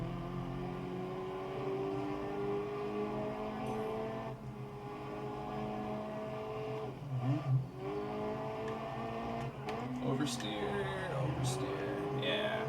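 Car engine in a racing video game, revving through downshifts and oversteer drifts with steady harmonic drone and brief pitch swoops, mixed under someone talking.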